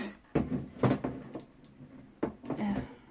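A few sharp plastic clacks and scraping thuds, close by, as a plastic storage drawer still held shut with tape is tugged and pulled open in short bursts.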